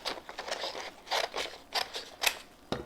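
Scissors snip around a printed image for a custom sublimated slate rock, several quick, close, crisp cuts in an uneven rhythm in a quiet room.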